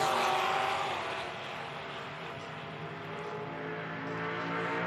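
A 1990 Corvette drag car with a small-block engine making a time-trial pass at an IHRA Outlaw Nitro Series event in Hebron, Ohio. Its high-revving engine roar is heard from a distance, wound out and broad, fading slightly, then holding steady.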